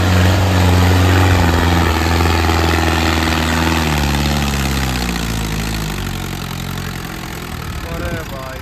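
Mahindra Arjun tractor engine labouring hard under heavy load on a rough track, a loud, close, steady low drone that slowly shifts pitch and eases slightly toward the end.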